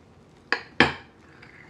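Cutlery cuts through a layered gluten-free maple crêpe cake, two sharp clinks against the plate close together, then quiet.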